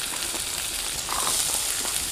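Onions sizzle in a little butter in a kadai that still holds chicken flavour from making butter chicken, giving a continuous close crackling hiss with no talking.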